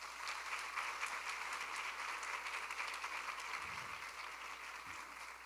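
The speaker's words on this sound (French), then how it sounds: "d'applaudir vos parents, s'il vous plaît" A crowd of godchildren applauds their parents at a ceremony, sustained even clapping from many hands at moderate distance, steady throughout with no talking over it.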